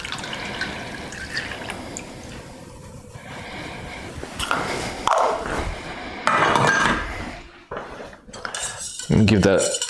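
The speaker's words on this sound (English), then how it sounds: "give that a good mix together" A utensil stirs pancake batter in a bowl, making loud repeated clinks and scrapes against the bowl in irregular bursts, close up with no voices.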